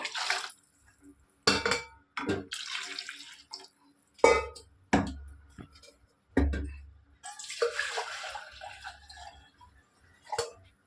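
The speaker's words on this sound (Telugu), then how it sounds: "ఈ గిన్నెతో నేను గిన్నెన్నర పోసుకుంటున్నాను నీళ్ళు కొంచెం తగ్గించి పోసుకుంటున్నాను" Water is poured in separate bursts into a pot of rice for chicken pulao, each gush close and splashy, with clinks of a vessel between pours and short quiet gaps.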